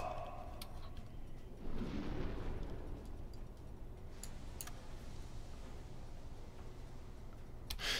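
A muffled, rumbling torpedo explosion in the U-Boat video game swells and fades over steady low engine drone, with a few sharp clicks later on; distant and heavy rather than sharp.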